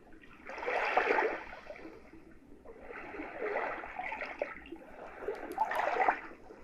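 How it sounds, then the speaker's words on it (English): Water trickles and splashes softly over stones in uneven bursts, rising and falling in three gentle surges, with no voices. "Very nice kind of trickle of water, like small splashes amongst some stones or something."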